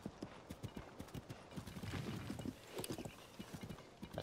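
Horse hooves clip-clop steadily in a rhythmic gallop in Zelda: Tears of the Kingdom, a continuous run of close thuds under faint game background sound.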